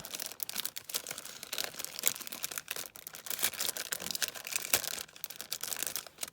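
Crackly, crinkling rustle of sticky paper being peeled away in short bursts, close up, with no talking.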